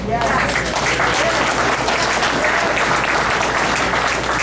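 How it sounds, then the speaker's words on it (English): A packed neighborhood association meeting on homelessness erupts in loud, continuous applause, dense clapping at a constant level with a low hum underneath. "Listen to the applause, please."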